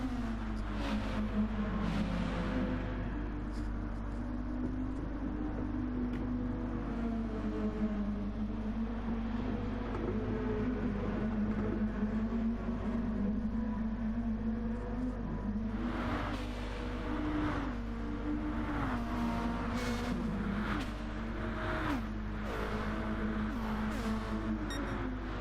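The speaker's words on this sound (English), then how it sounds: "Let's just hear the engines as I stay quiet for a bit." Race car engines roar around the Suzuka circuit in a sim racing game, a continuous droning blend of several cars with rising and falling revs and occasional louder passes, no talk.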